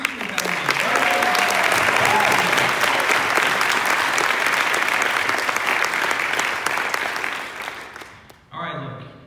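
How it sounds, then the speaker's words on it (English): A crowd applauds the Arborbrook Christian Academy class of 2018 at a graduation ceremony. Dense, sustained clapping with a few voices mixed in runs for about eight seconds and then cuts off abruptly, leaving a brief quieter tail. "People, let's have a round of applause for the Arborbrook Christian Academy"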